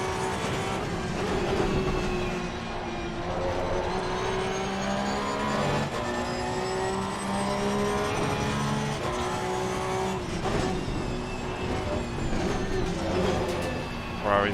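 Race car engines in Assetto Corsa Competizione, including Porsche and Ferrari GT cars, whine and roar continuously, shifting pitch through gear changes and corners, with commentary speech layered over the sim engine noise.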